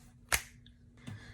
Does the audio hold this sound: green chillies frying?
no